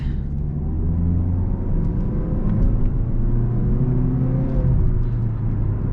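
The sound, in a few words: 2018 Mazda 3 Sport GS, 2-litre four-cylinder, accelerating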